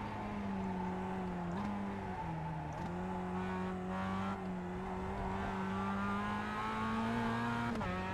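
A Mazda Cup race car lapping Summit Point Jefferson in iRacing, its engine droning steadily at high revs with brief dips and climbs as it shifts through corners, loud and continuous with no talking.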